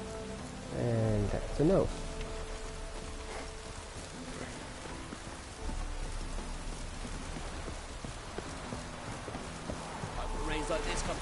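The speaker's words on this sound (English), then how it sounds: "Rains like this come sowing time" Rain falling steadily in the video game The Witcher 3, a soft constant patter throughout, with horse hooves clopping near the start and a brief spoken line over it.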